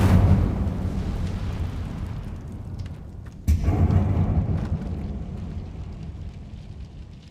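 Incendio fire spell cast in Hogwarts Legacy, a loud rumbling burst of flame that opens strongly, fades, then flares again with a sharp second whoosh midway before trailing off in a sustained roar.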